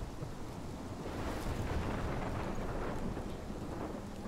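A Life is Strange thunderstorm rumbles steadily, with deep rolling thunder, wind and rain in a dense, continuous wash and no voices.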